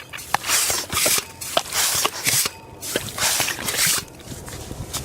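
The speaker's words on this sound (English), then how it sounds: "And then it's just a matter of going along, finding these holes and putting your pump on them." A yabby pump works wet sand at low tide, making repeated wet squelching, sucking and sloshing bursts with gritty drips in between, close and fairly loud.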